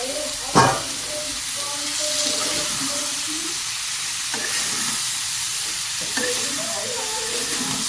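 Mushrooms fry in a pan with onion, tomato and capsicum, giving a steady soft sizzle throughout. A sharp knock of the utensil comes early, then faint scraping clicks as the mix is stirred.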